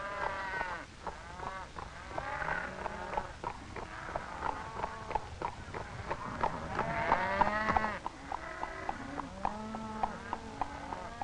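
Apache horsemen herd their tribe's cattle: hooves clop steadily while several cattle low and moo repeatedly, the calls overlapping at close and middle distance over a busy outdoor background.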